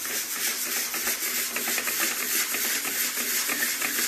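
A Dixie Belle sanding sponge rubs across a painted wooden planter, giving a steady close scratchy hiss with quick repeated strokes throughout and no pauses.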